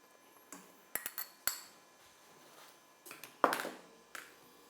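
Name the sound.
spoon adding milk powder to fish pie sauce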